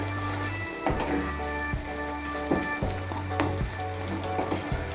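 Moong dal and cauliflower ghonto cooking in a pan with ghee, a constant loud sizzle with a low steady hum beneath and occasional scraping strokes of the spoon as it is stirred, no voices.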